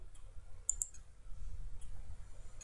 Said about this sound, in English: I click OK.